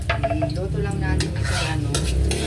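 Ginger cooks in oil in a pan, giving a continuous sizzle and frying hiss mixed with clinks and scrapes of a utensil against cookware, while a voice talks over it.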